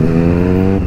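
A Kawasaki ZX6R supersport motorcycle engine revs high under engine braking, a steady, loud, close harmonic drone that holds for under a second with no talk over it.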